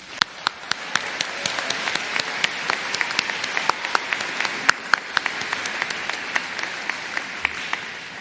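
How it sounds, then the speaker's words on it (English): Audience applause fills a commencement ceremony for undergraduate students, a steady, dense wash of many hands clapping with sharper individual claps standing out, sustained throughout at moderate loudness. "Let's have a round of applause for these phenomenal students."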